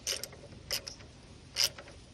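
Ratchet clicking as a bolt on the accessory belt tensioner of a 1993 Toyota 22-RE pickup engine is loosened, three short bursts of mechanical ratcheting close by with no talk.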